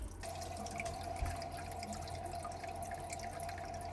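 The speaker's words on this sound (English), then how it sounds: "Lower unit's still draining out." Water drains steadily from a boat's lower unit onto a floor drain, a continuous trickling and dripping stream close by, with no talk.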